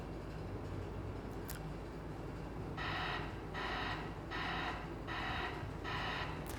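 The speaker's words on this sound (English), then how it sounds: "So what you hear is a reverse alarm on this truck." A truck's reverse alarm sounds a series of five evenly spaced, harsh beeps over a low engine rumble.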